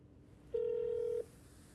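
A single steady telephone tone lasting under a second, clear and moderately loud against a quiet room background, as a call to the county clerk is placed.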